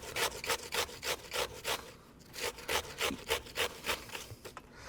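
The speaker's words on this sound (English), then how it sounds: "just taking the cucumber, taking the box grater," English cucumber grated on a box grater, a steady run of rhythmic rasping strokes, about three per second, close and clear with a short pause midway.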